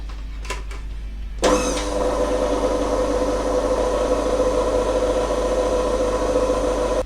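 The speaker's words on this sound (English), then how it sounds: "for the KitchenAid, attach a dough hook, and we're just going to slowly combine this yeast mix into the flour" A KitchenAid stand mixer with a dough hook starts up after a couple of light clicks and then runs steadily at a low, even motor hum, combining a yeast mix into flour, close and loud.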